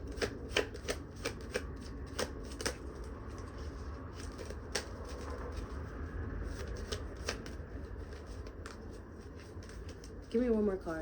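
Tarot cards being shuffled by hand, a quiet, steady run of soft riffling patters and flicks with a few sharper snaps, close up, while a person talks throughout.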